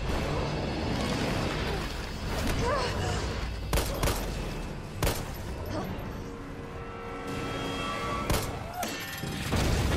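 Gunfire in the video game Resident Evil 3 comes as loud bursts and sharp single shots mixed with booming hits, while a player talks over the action.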